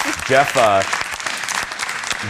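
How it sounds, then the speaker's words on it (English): A canned applause sound effect plays as a burst of clapping, with a voice talking over it during a chatty daily broadcast. "no fake applause today, or very little fake applause"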